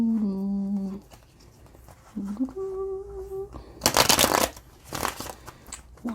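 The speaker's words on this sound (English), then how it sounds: "One more good shuffle." Tarot cards are shuffled in two loud, riffling bursts of papery flutter near the end, following a stretch of humming or sung tones.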